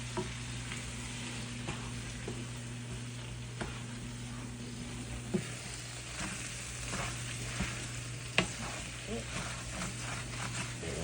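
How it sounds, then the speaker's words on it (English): Wine poured into a hot pan to deglaze it after the flour has cooked, making a continuous sizzle with occasional sharp spoon clinks and scrapes over a low steady hum, and quiet talk running underneath. "we're going to add a little bit of wine. Deglaze the pan some."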